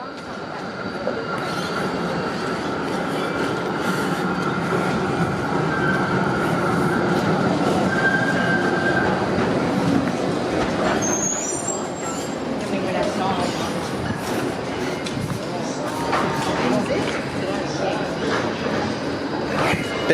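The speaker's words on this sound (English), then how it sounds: "There's another A-class tram on the opposite side." An A-class tram running on the St Kilda light rail line, a steady rumbling rail noise with a brief wheel squeal, continuous and fairly close, with people talking over it throughout.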